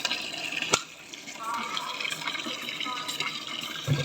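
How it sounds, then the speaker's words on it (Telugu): Tap water runs into a container at home with a steady splashing rush, a sharp clunk near the start and another knock at the end. "ఇగో వాటర్ అయితే పట్టాము."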